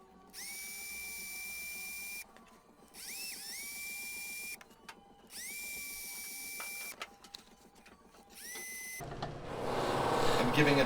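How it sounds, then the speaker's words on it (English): Buffing wheel working a new guitar pickguard made from an old broken one, a steady high whine in repeated passes with brief pauses between, ending in a louder broad rush. "Giving it a final buff, softens some of the edges, takes away any little minor scratches."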